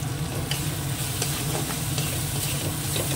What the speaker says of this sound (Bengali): এবার মশলাটা আবার একটু ভালো করে কষিয়ে নেব।